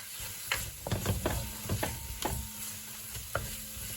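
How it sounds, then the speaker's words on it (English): Herbs, spices and crushed pimento stirred into sizzling butter for a seafood boil, with a quiet sizzle under several distinct scraping strokes of a spoon, close and without talk. "I'm just going to mix these into the butter that I have here"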